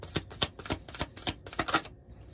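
Tarot cards handled and drawn from a deck: a quick, regular series of about seven soft, papery flicks and slides, close and quiet, ending in silence.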